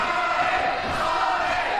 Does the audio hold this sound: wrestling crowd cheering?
yes